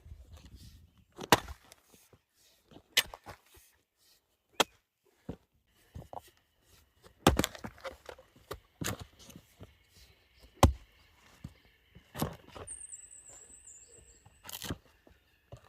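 Firewood chunks split by hand, probably with an axe, on a homestead in southern Chile, giving sharp separate chopping impacts at irregular intervals, some with splintering cracks, plus a brief high whine near the end.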